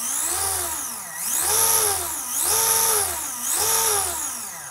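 A 3D-printed gear and pulley on an exosuit drive spins up and down in three repeated whirring surges, each rising then falling in pitch, loud and close with no talking.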